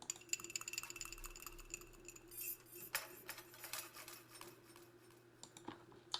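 A double cup sound sample in an ambient trap beat gives faint glassy clinks and liquid, drippy ticks over a soft sustained drone, quiet and sparse with no vocals.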